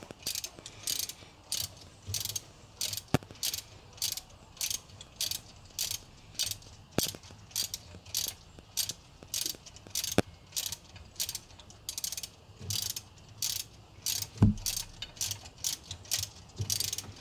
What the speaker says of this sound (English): this is going to be a 15 millimeter to remove this belt tensioner